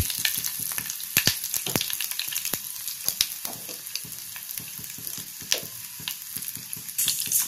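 Dried red chillies frying in hot oil with mustard seeds and urad dal: a dense, steady close sizzle studded with quick crackles and pops, continuous throughout with no voices.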